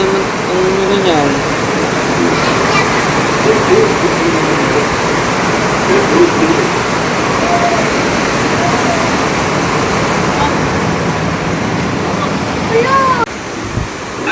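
Heavy rain pours in a dense, continuous roar during a flood, loud and close and steady throughout, with faint voices or calls partly buried beneath it.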